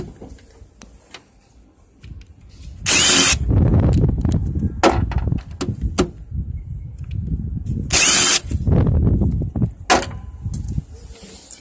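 Two bursts from a Dewalt DCF787 1/4 inch impact driver with a magnetic nut socket, spinning 10mm bolts off at a Pull-a-Part junkyard. Each loud burst lasts about a second and sits among nearby handling clatter.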